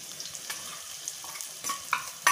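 Sabudana khichdi with crushed peanuts is stirred and fried in a kadhai, giving soft sizzling and a few scraping spoon strokes, close and fairly quiet, with no talk.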